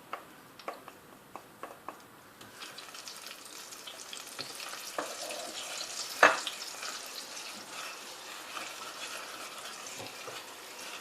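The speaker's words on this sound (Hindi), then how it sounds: "ये सुरख मिर्चें, नमक, थोड़ी सी देगी मिर्च और क्रश मिर्चें और हल्दी, इनको मैं थोड़ा सा पहले भूनूंगी" Red chilies, salt, a little deggi chili, crushed chili and turmeric frying in a pan for a zucchini and pink lentil curry, giving a soft, steady sizzle and crackle with a few sharp ticks and clinks near the start.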